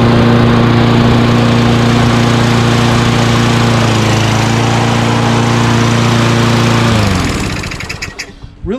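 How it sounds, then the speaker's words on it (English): A Craftsman Hi-Tunnel 21-inch rear self-propelled lawn mower with a 6.5 HP Tecumseh engine runs loud and close at a steady drone, then winds down and sputters to a stop near the end. "I wish it wasn't a Tecumseh engine, but this one seems to run just fine"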